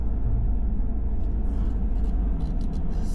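A truck towing a trailer on the way to Sturgis rumbling as it drives, a steady low drone heard from inside the cab.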